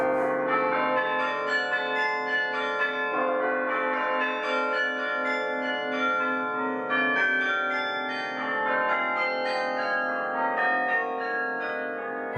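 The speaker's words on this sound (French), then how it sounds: "Et tout là-haut, caché derrière les pierres jaunies par le temps, le carillon sonne." Carillon bells ring from a centuries-old belfry in northern France, a continuous cascade of overlapping ringing tones that keeps chiming without pause and without voices.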